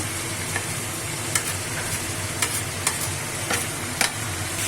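Garlic, ginger and dried chili paste frying in a pan for a mutton curry, a steady close sizzle with several sharp scraping stir strokes spread through, no talking.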